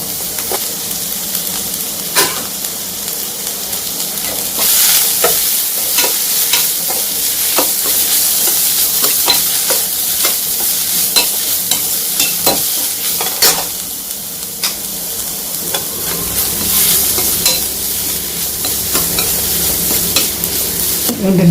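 Shredded cabbage is stir-fried in a hot pan, with a continuous close sizzle broken by frequent quick scrapes and taps of the spatula throughout.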